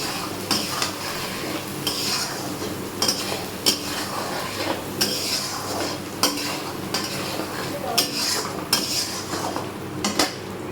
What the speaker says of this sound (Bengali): এবার ভালো করে আলুটাকে সুন্দর করে কষিয়ে নেব।